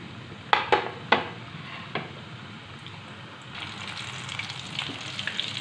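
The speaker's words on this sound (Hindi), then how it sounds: "अब हम इन्हें फ्राई करेंगे। ऑयल हमने कढ़ाई में रख दिया था गर्म होने के लिए।" Coated chicken pieces frying in hot oil in a kadai, with a steady sizzle throughout, a few sharp clinks of utensils early on, and the frying growing louder and brighter in the second half, with no talk.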